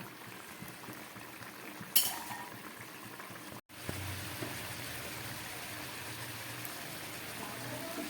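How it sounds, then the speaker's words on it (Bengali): Fish curry bubbles in an uncovered pan with a soft, continuous simmering burble, faint and steady, interrupted by one short gap partway through. "এখন এই খোলাই দু তিন মিনিট ফুটে উঠুক তারপরে আমি নামাচ্ছি"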